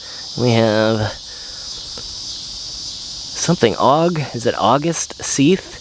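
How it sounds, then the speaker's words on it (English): Cicadas drone steadily in the background of a leafy 1800s cemetery, a continuous high buzz running beneath a voice as he talks nearby. "Little cicada there. You can hear them in the background."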